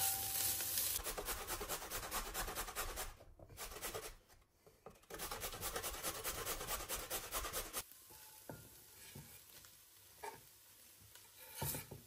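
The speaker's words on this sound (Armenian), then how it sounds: "Այդ ընթացքում քերիչով անցկացնում եմ գազարը։" A carrot rubbed against a hand grater in a home kitchen, giving a steady rasping scrape in repeated strokes, close and fairly loud, with a couple of short pauses and some clatter near the end.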